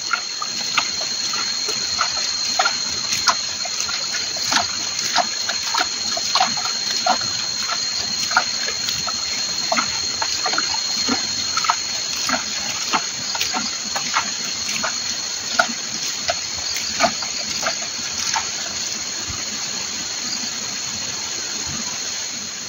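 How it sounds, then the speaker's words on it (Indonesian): A dissolved salt solution is poured over goat manure, making a steady trickling, splashing flow of liquid that runs without a break throughout, with faint clicks and a high whine underneath. "ini cairan garam yang sudah kita larutkan tadi, kita siramkan"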